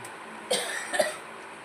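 Two short coughs from a person with a cold, about half a second apart, moderately close, over a quiet background.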